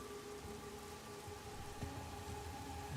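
Steady rain falls in the video game Master Detective Archives: Rain Code Plus, a continuous even patter under a low sustained musical drone, with a slight swell near the end.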